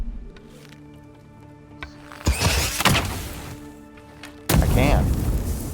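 A gunshot in the game Avowed fired to knock an object down, followed by heavy booming impacts and crashing debris, loud bursts between quieter stretches of game ambience with tonal music.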